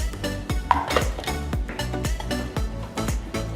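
A spatula folds almond flour into whipped egg whites for a keto angel food cake, scraping and knocking against the bowl in a steady, repeating rhythm of strokes, close and fairly loud.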